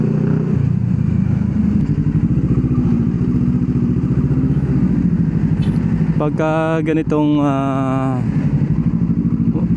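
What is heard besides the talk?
motorcycle riding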